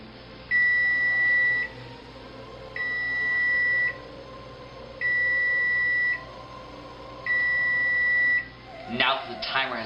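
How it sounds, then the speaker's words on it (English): An oven timer sounds four evenly spaced electronic beeps, each held for about a second with short gaps between, loud and close in a home kitchen, followed by a brief clatter at the end. "Now that the timer has gone off, I'm going to take it out of the oven"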